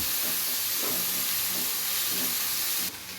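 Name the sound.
tomatoes frying in a pan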